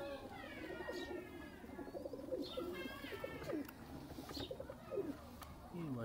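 Heera Lal pigeons coo steadily in soft, throaty, repeated calls, several birds overlapping nearby, with occasional chirps over a constant background hum.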